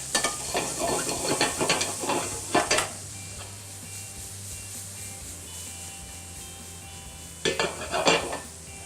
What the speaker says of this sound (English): cook them slow until they're nicely caramelized